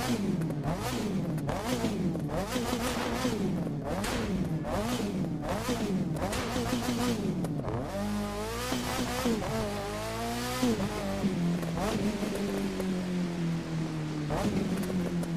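Engine note from a car in the racing game The Crew 2, a mix based on the Mazda RX-7 sound, revving hard through repeated rising sweeps and gear changes, loud and close, then settling into a steadier high drone.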